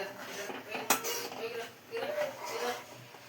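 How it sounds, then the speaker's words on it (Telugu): A spoon stirs ivy gourd masala curry in a cooking pan, giving soft scraping and a sharp metallic clink near the start, followed by quieter rubbing and shuffling sounds at close range. "మంచిగా కలుపుకోవాలి. ఇట్లా"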